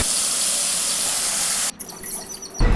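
Water pours steadily into a pan of ground spice paste with red chillies for a jackfruit greens thokku, a broad continuous gush that cuts off sharply partway, followed by quieter sizzling and bubbling.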